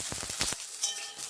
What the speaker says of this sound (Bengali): এবার আমি বেগুনগুলোকে ভেজে নেবো।